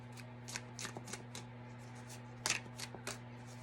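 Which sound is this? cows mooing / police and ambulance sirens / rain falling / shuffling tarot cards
shuffling tarot cards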